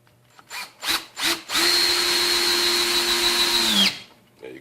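Ryobi 18V One Plus cordless drill trigger-blipped in three short bursts, then running continuously for over two seconds while driving a 2.5-inch screw, a loud steady whirring motor whine that dips at the end and stops.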